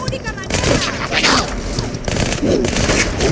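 Dense gunfire in the video game Halo 2, rapid loud bursts and booms of a firefight layered together, with voices shouting amid the shooting.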